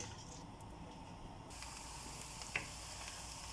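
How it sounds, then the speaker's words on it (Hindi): Cumin seeds and onion sizzle in hot oil in a pan for chicken karahi, a steady close hiss with one brief sharp clink partway through. "ज़ीरा और प्याज साथ साथ हम फ्राई करेंगे।"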